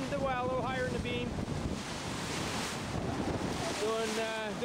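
Wind and waves around a sailboat on a beam reach in the Gulf Stream, a steady roar of gusting air buffeting the microphone over sloshing water, with faint high creaks or squeals at the start and end.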